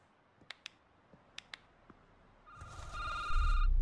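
Phone in an indie security-booth horror game starts ringing after a few soft clicks, the electronic ring swelling loud and close over a deep rumbling background.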